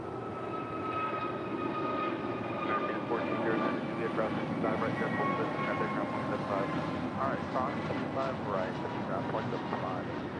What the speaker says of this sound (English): Alaska Airlines Flight 286 heading to Newark in an A321neo